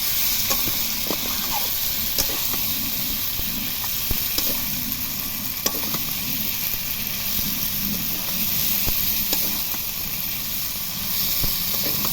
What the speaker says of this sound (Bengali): এবার দেবো ভেজে রাখা আলু দিয়ে আবারও ভালো করে কষিয়ে নেব